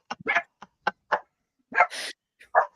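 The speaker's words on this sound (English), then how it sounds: "There are the dogs that's telling me it's time to wrap it up." Several dogs bark in short, sharp, separate bursts spread over a few seconds, fairly close and loud, with quiet gaps between the barks and no talking.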